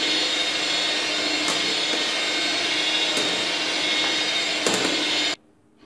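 An electric beater whirs steadily through cake batter with powdered sugar, a loud continuous motor drone with faint clicks, then cuts off abruptly near the end.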